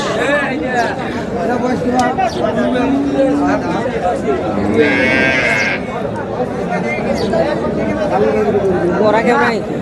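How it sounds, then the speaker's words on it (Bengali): Busy cattle market selling cows with calves, with loud crowd chatter, bargaining and shouting throughout, and a cow's call rising briefly above the voices midway. "গাভী বাছুর"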